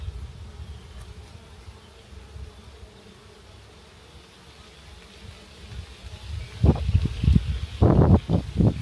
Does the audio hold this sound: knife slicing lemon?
no